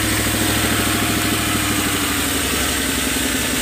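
A Land Rover engine idles after its idle speed has been adjusted, with a loud, steady, close rumble and a regular pulsing throb that holds even from start to finish, without any voices.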